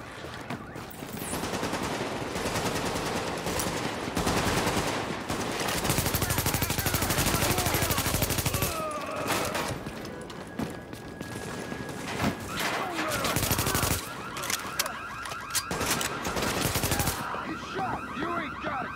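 Sustained gunfire from The Division: automatic weapons keep rattling in long, loud bursts that overlap, with short pauses and an alarm-like tone running underneath.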